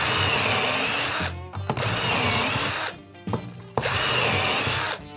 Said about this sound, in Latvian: Ja nu tu izurbi savas 3 pozīcijas